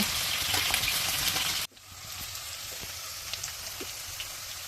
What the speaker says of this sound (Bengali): পেঁয়াজ কুচি, রসুন কুচি, খালি করা কাঁচামরিচ একটু ভেজে নেব।